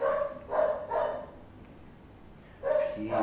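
A dog barks several times in short, fairly faint bursts: a quick cluster of three, a pause, then two more.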